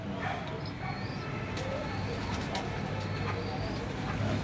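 Pigeons coo softly on a rooftop amid constant outdoor noise, with faint bird calls scattered through and a dog-like whimper or bark heard in the background.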